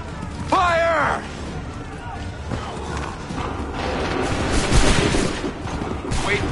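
A musket volley fired by soldiers in the Assassin's Creed III video game, with a mechanical clatter early, then a crackling fusillade swelling midway under background battle noise.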